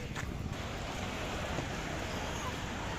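Sea waves at the Marine Lines seafront in Mumbai wash in a constant broad roar, mixed with wind buffeting the microphone, with no distinct breaks between surges.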